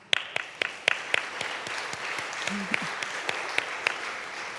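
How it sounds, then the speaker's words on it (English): Audience applause at a school back-to-school night, a steady wash of many hands clapping with sharp individual claps standing out, moderately loud and sustained throughout. "So we can clap for that."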